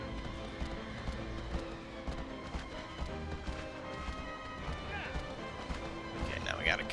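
Horse galloping in the game Shadow of the Colossus, a steady rapid beat of hooves running on as game sound under someone talking throughout.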